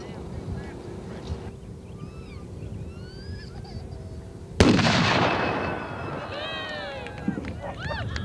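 A 100-pound anvil is blasted skyward in an outdoor anvil shoot, one sudden loud boom cutting through steady background noise with birdsong, then a long rumbling decay while birds keep calling.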